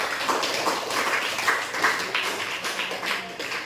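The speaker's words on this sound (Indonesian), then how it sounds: "tepuk tangan dulu teman-teman semua" Classmates in a school lesson clap their hands together in a lively, uneven burst of many small claps that pulses in waves for several seconds, fairly close, with no talking.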